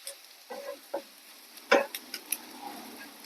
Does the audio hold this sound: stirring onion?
yes